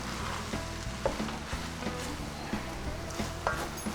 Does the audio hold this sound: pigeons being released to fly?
no